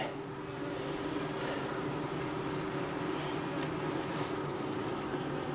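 Dark honey bees buzz steadily at an open hive during a summer inspection of a colony that swarmed in spring, a dense, even drone close by with no break.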